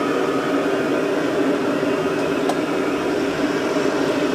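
Mendoan tempeh frying in hot oil gives a constant, dense, loud sizzle that holds steady throughout without talk.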